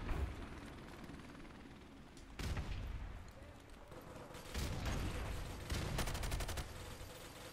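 Gunfire in Modern Warfare Remastered, a multiplayer first-person shooter match, with bursts of rapid shots and loud booms breaking through a steady hum of battlefield noise, some volleys close and sharp and others farther off.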